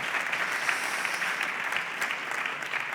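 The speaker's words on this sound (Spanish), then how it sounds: "Un fuerte aplauso, por favor." Audience applause at an agricultural technical conference on greenhouse farming, a steady dense clapping that holds at an even level for the whole stretch, with no voices over it.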